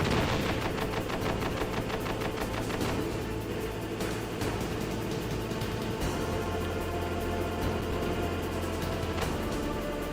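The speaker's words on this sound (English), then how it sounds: "Guessing these are grenades?" Grenade blasts and gunfire in Metal Gear Solid, a dense, continuous barrage of bursts and bangs over a low rumbling game backdrop, with no voices.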